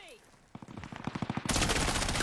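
Gunfire near a winery building: a rapid string of sharp shots gathers pace into a dense, loud burst of continuous firing at close range.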